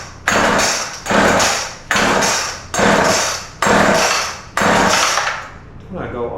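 A string trimmer on choke with the throttle held wide open is pulled over and over, giving six loud, evenly spaced bursts that each swell and fade, followed by a brief rough sputter at the end.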